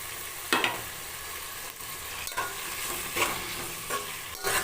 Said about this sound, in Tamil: மூணு வெங்காயம் மூணு தக்காளி எல்லாம் சேர்த்து நல்லா வதக்கிக்கோங்க